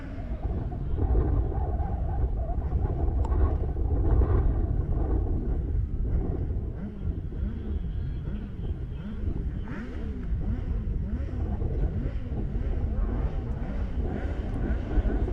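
A rally car engine roars steadily at high revs at a British Rallycross Championship round at Pembrey, the rumble rising and falling as the throttle is worked, loud and continuous throughout.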